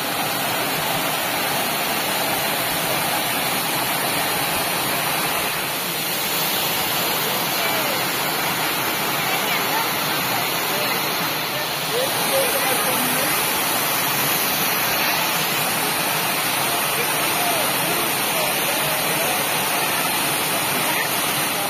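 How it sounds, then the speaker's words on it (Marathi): A roadside waterfall at Vesvi in the Konkan roars in a dense, unbroken rush of falling water, loud and close for the whole stretch. "तर वॉटरफॉल बघा कसला खतरनाक आहे, बरोबर रोडच्या साईडलाच आहे"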